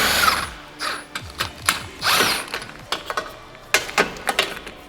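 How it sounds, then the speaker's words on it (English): An impact driver works on the bolts holding the crash bar on an Audi SQ7 after bumper removal: several short bursts separated by clicks and rattles, fairly close, with no talking. "we're going to start by removing the 8 bolts which hold it on"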